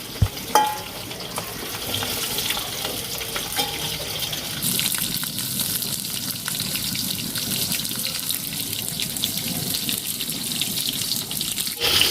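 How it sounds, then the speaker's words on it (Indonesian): Jengkol beans frying in hot oil in a pan, a continuous close sizzle with occasional stirring clatter, steady and alone without speech. "lanjut kita goreng jengkol"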